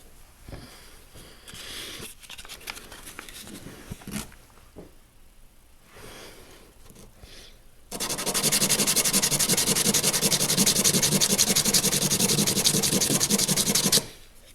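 An Old Timer 8OT Stockman pocketknife blade is reground, with scattered scraping and rubbing first, then a loud steady abrasive sanding hiss running continuously for about six seconds before stopping abruptly.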